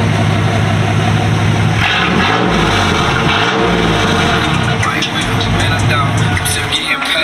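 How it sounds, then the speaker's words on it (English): A loud, throaty truck engine with its exhaust fallen off idles roughly and revs a few times, raw and unmuffled, close by. "That cut off exhaust."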